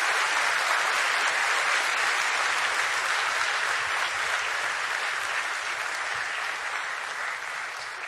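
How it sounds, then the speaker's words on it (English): A large audience applauds steadily to greet Finance Minister Nirmala Sitharaman at a speaking event, a dense, loud wash of clapping that holds for about eight seconds and fades only slightly toward the end. "I would request you to please greet her with a huge round of applause before she addresses us today."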